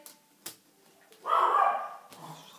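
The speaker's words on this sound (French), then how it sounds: "ça, c'est mon chien" A pet dog barks indoors, a sharp yap followed by a louder, sustained burst of barking or whining near the listener, then a brief quieter sound.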